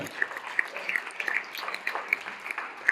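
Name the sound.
church congregation applauding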